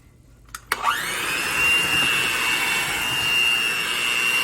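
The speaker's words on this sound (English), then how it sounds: "Now I'm gonna mix it all up right now because that's everything it called for." An electric hand mixer whirs steadily through muffin batter, starting with a couple of clicks and then holding a loud, constant high-pitched motor whine.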